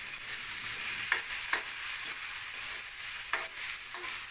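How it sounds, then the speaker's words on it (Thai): Tomatoes fry in a pan with a constant close hiss, and a few sharp scrapes of a spatula stir through it now and then, with no voices. "ตอนนี้เราก็จะใส่มะเขือเทศลงไปนะครับ แล้วก็คนให้ให้มันสุกนะครับ"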